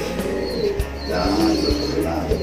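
A pigeon coos in a loft during a visitors' bird handover, a soft rolling call repeating over steady loft ambience with other birds faintly chirping nearby.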